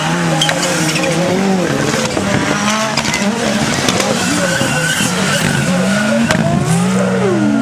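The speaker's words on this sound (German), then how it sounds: "Max Oehlmann und auch Max Oehlmann ein bisschen am Schleudern" Rallycross Super Cars race at Estering, Buxtehude, engines roaring loudly and continuously as tires squeal and skid through a corner, with a commentator talking over the din.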